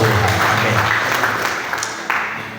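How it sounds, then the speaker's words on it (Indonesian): A church congregation claps together at a morning service, a loud, close wash of applause that gradually fades over a couple of seconds. "Yang percaya kita berikan tepuk tangan buat Tuhan"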